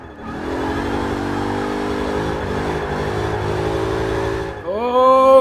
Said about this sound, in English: the supercharger whine and everything